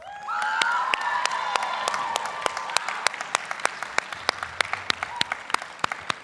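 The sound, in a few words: applause at a school award assembly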